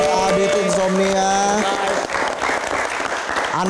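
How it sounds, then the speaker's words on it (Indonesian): Studio audience applause and clapping for a comedian on a live talk show, a loud, steady wash of many hands that continues for several seconds with a sustained musical tone underneath at the start. "kita berikan tepuk tangan sekali lagi untuk Adit Insomnia."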